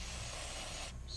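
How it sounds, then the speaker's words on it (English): Aerosol mass air flow sensor cleaner sprays steadily onto a Toyota 4Runner's sensor and throttle body, a close, continuous hiss lasting about a second before cutting off abruptly. "You could go ahead and spray the whole thing all around."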